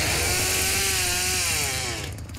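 Leatherface's chainsaw roars in the Texas Chainsaw Massacre video game, a loud buzzing saw engine with a rising then falling pitch that fades out after about two seconds.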